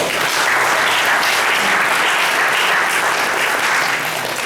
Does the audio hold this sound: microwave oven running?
no